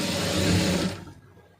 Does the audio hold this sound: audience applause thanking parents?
no